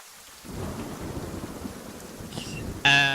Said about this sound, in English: as the storm hits you guys